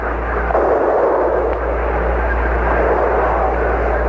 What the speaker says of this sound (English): You see a firing bazooka-type weapon. It sounds like that from here.